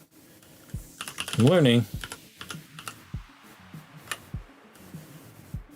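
Keyboard keys tapping in short irregular bursts while working at a computer, with a brief loud tonal swoop partway through and a voice speaking briefly.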